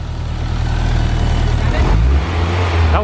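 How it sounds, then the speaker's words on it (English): A Honda S2000 engine idles loudly close by, then rises briefly in pitch as it revs, with a voice talking over it near the end. "Give it a couple of revs."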